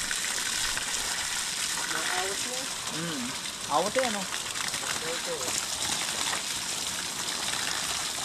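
Strong water rushing through a farm irrigation channel makes a constant broadband gush, steady and close, while people talk over it.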